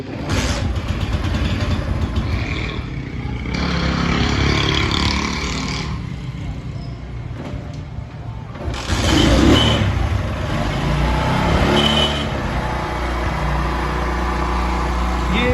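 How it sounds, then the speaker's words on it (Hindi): Road Prince motorcycle engine and silencer running, a steady close rumbling idle with repeated throttle blips and revs swelling louder, continuous throughout with no talk over it. "मोटरसाइकिल की इंजन की आवाज़ भी सुनवाएंगे आपको, और साथ ही साथ मोटरसाइकिल की कंडीशन भी और सलेंसर का साउंड भी आपको चेक करवाएंगे"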